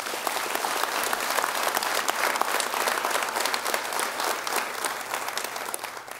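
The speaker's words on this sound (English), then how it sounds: "One more big round of applause for the cross-country Dream Team 2012" Loud, sustained applause from an audience honoring the 2012 cross-country Dream Team, dense steady clapping that holds for the whole stretch without pause.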